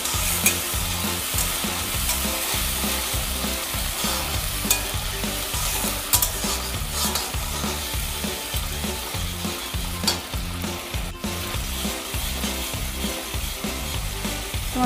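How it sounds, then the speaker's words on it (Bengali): Tomato paste ground with green chilies and ginger sizzles and fries in a pan while being stirred, a continuous close hiss broken by regular scraping strokes of the spoon for the whole stretch. "এখন আমি মিনিট 2 কষিয়ে নেব টমেটো আর আদাটাকে"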